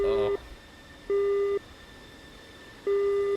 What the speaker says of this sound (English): Beep and radio chatter.